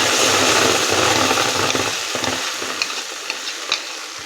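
Spices sautéed in a pan for a pumpkin curry, giving a loud, continuous sizzle that eases off as scattered clinks of stirring come through.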